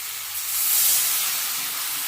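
Water poured into a pan of sautéed vegetables for a vegetarian curry hisses and sizzles in one steady, bright burst that swells briefly then settles.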